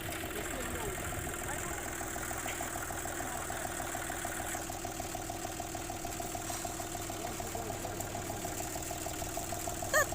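A car engine idles steadily and continuously throughout, with a low mechanical hum and faint background noise.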